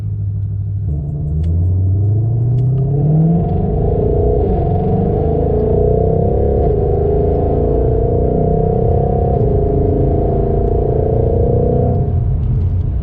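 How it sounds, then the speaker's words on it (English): Exhaust of a 2021 Ford Mustang Shelby GT500 while driving, a deep steady rumble from inside the car that rises with an upshift early on, then holds a droning cruise. "Like the exhaust that Ford puts on these cars"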